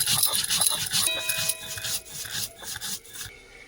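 Dry mustard seeds ground by hand on a grinding stone without water, a close, loud rasping scrape repeating in quick back-and-forth strokes, with no speech.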